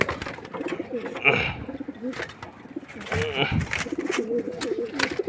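Racing pigeons coo in rolling, repeated bursts close by as they are released from their loft together, with a voice speaking between the calls.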